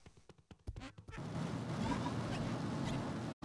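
A cartoonish duck quacks in the video game My Wobbly Life, with a few short clipped sounds followed by a longer, buzzy quacking burst at moderate, close level.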